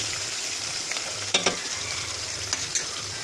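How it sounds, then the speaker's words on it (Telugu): Sambar ingredients fry in a pan with a soft, faint sizzle, broken by a few sharp clicks of stirring, heard close with no talking. "దీన్ని ఇది కొంచెం వేగాలి."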